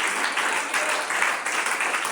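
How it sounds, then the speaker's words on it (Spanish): Church congregation applauds together, a dense, steady wash of clapping that holds throughout at moderate loudness. "Den ese aplauso con el alma, gloria a Dios con libertad por un momento."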